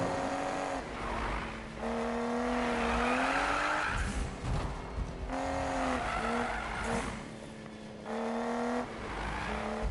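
A car drifts in a PS4 racing video game, its engine revving loud and close while long tire squeals rise and fall in repeated bursts across the stretch, with no talking.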